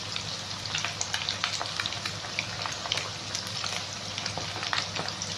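Curry leaves hitting hot oil give a steady, close crackling sizzle full of rapid popping spatters, continuing alone without talk for a few seconds.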